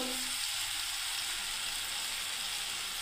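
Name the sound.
stirring vegetables frying in pan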